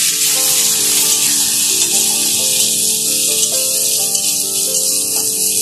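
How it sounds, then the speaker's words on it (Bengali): Cashews and raisins frying in hot ghee give a loud, dense, steady hiss close up, with a faint tonal hum running underneath. "কাজু আর কিশমিশগুলো এখন আমি ঘিয়ের মধ্যে ভাজতে থাকবো যতক্ষণ না হালকা বাদামি কালার চলে আসে"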